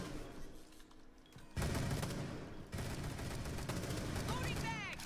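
Bursts of automatic gunfire in the video game Rainbow Six Siege, loud rattling volleys that start partway through and continue with brief breaks, with game sounds around them.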